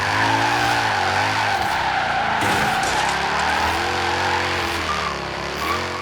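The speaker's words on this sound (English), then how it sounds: "we're going to tap the e-brake. We're not going to hold it down or anything like that, but yeah, it can do this." Ford Falcon XR8 drift build in Forza Horizon 3 sliding sideways with a tapped e-brake, a loud continuous tire skid over a steady engine drone that rises and falls in pitch throughout, with no talking.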